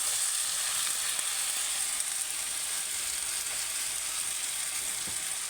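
Eggplant curry fries in a pan in a Telangana village kitchen. A constant bright sizzle runs throughout, with faint scattered stirring taps underneath and no speech.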